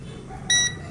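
A single short, high electronic calibration beep from an SG906 Pro drone sounds once over a quiet low background hum.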